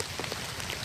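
Steady rain falling outdoors in an empty park, a dense, even hiss of drops with no voices, brief and constant.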